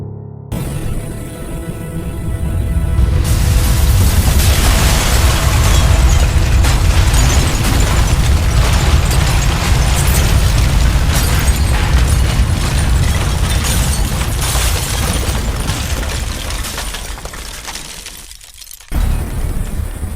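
A massive explosion from a cruise missile destroys an Arctic base, swelling into a long, loud, continuous roaring rumble that sustains for many seconds before cutting off abruptly near the end.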